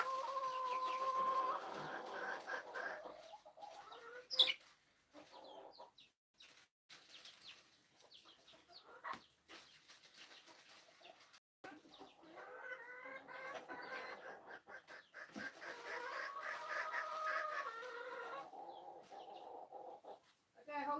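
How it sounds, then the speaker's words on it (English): A rooster clucks and calls amid a farmyard flock on a rainy day, with a dog faintly present and a person talking intermittently over the fowl sounds, close and fairly quiet. "Rooster."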